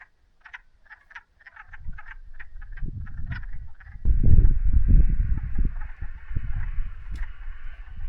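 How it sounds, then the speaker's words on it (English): Frogs croak in a rhythmic chorus at a cabin pond nearby, high chirping calls at first, then deeper, louder croaks building into a dense cacophony. "There was a large cacophony of frogs here."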